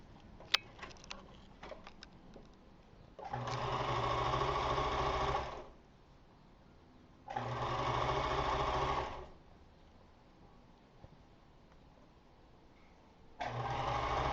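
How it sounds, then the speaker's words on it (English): A sewing machine stitches a set-in sleeve together in three steady, fairly loud bursts of rapid whirring, each a few seconds long, separated by quiet pauses. "So I'll sew the sleeve together."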